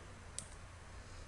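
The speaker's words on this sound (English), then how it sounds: "you're just going to right click on the URL here" A computer mouse right click, two faint single clicks spaced about a second apart over a low steady room hum.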